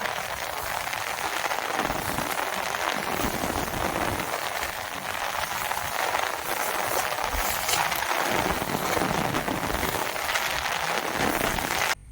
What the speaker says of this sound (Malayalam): ഏറ്റ മഴ എന്ന് പറഞ്ഞാൽ ഏറ്റ മഴ